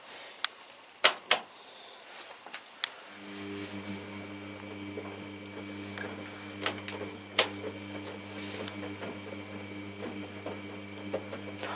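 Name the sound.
washing machine running a rinse and spin cycle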